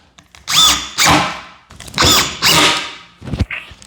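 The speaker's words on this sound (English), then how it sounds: "It should make that sound, like grinding away at the screw." Power drill driving a screw into a kitchen cabinet: several short whirring and grinding bursts with pauses between, ending in a brief scrape, close up and loud without speech.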